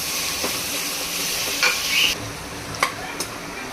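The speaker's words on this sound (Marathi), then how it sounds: "गावरान तूप आपल्याला तीन ते चार चमचे टाकून घ्यायचं आहे आणि आता परतवायचं आहे पुन्हा" Chopped onions and green chillies are stir-fried in a few spoonfuls of homemade ghee, a steady close sizzle with brief scraping stirs of the spoon and small sharp crackles, no voices.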